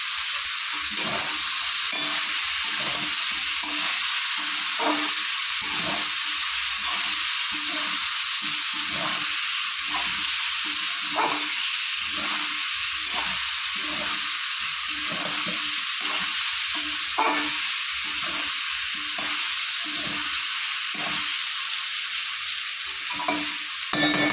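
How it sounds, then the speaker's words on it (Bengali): Winter vegetables sizzle steadily in a hot pan while a utensil stirs and scrapes in a regular rhythm, close and moderately loud, with no talking. "পাঁচ 10 মিনিট একটু ভাজা ভাজা হোক"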